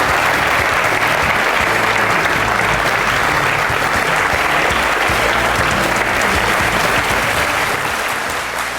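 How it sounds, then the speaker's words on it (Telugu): Studio audience applauding to welcome Dr. Farooq Abdullah onto a televised courtroom-style talk show set, a dense, loud, sustained wall of clapping that runs steadily throughout with no break. "చప్పట్లతో స్వాగతించండి"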